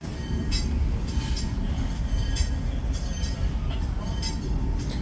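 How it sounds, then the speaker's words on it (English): A Green Bay Western diesel locomotive rumbles at a railway museum while coupling to a caboose train, with a steady low engine drone and periodic metallic clanks and hisses. "the locomotive that ended up coupling to the caboose train was the Green Bay Western locomotive"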